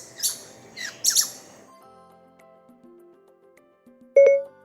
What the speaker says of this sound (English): A squirrel sounds like this.